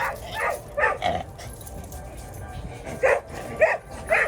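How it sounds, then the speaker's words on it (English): Several dogs at an outdoor flea market bark in short, sharp bursts, a cluster early on and another pair near the end, moderately close over crowd noise. "we got dogs about to attack each other"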